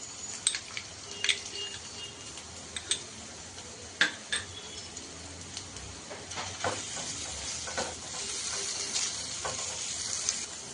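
Chopped onion and finely minced garlic frying in a pan for an egg sandwich, a soft continuous sizzle close by, broken by sharp ticking clicks of a utensil stirring against the pan.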